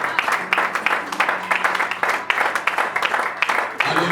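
A church congregation claps in a brisk, rhythmic beat that carries on steadily throughout, with voices mixed in under the clapping.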